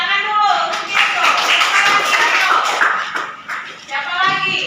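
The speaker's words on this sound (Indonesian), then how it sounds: "Iya, tepuk tangan dulu." Schoolchildren in a classroom clap together in a dense, continuous round of applause for about four seconds, close and loud, with voices mixed in and a brief dip near the end.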